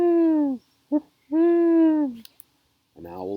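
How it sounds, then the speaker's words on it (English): An owl hoots at night outside a house: two long, clear hoots with a short note between, then after a pause a lower, rougher hoot, standing alone without talk. "owl hooted, was silent,"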